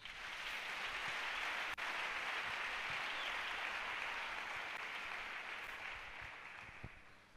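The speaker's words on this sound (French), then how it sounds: "Acclamons Jésus." A church congregation applauding after a call to praise Jesus, sustained dense clapping from a large crowd at moderate distance that fades slightly toward the end.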